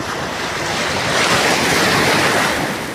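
Sea waves at Shiali beach, a continuous loud wash of surf swelling slightly in the middle, with wind buffeting the microphone.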